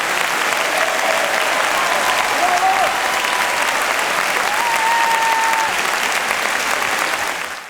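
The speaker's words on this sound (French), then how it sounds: "Des tonnerres d'applaudissements, des standing ovations à n'en plus finir." A concert hall audience applauds the Monte-Carlo Philharmonic Orchestra after a Rachmaninov program, with thunderous, sustained clapping and a few faint cheers that fade at the end.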